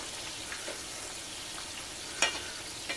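Food frying in a pan over moderate heat, a steady close hiss of sizzling oil with faint crackles and one brief sharper pop near the end.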